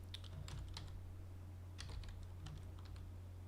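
Someone types on a computer keyboard during a Crusader Kings 2 game session. Quick bursts of light, close key clicks rise over a steady low hum, with a short pause in the middle. No speech.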